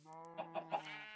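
Chickens in the Minecraft video game give a few soft, evenly spaced clucks over a faint sustained tone, ending with a louder burst, quiet overall and without talking.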